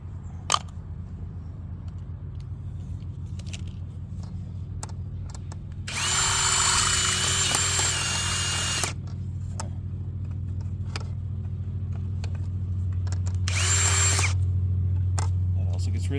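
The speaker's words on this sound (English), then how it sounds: "I gotta use the larger drill for that." A larger power drill bores through a handmade model railroad switch point for a turntable, in two loud steady whirring bursts, the first about three seconds long and the second shorter, over a constant low hum.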